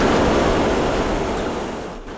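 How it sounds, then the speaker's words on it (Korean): A wind-like masking noise plays from the ceiling speakers of a library, a loud, steady broadband hiss like rushing air that fills the room and fades slightly toward the end. "조용해야 할 도서관에서 웬 시끄러운 바람소리?"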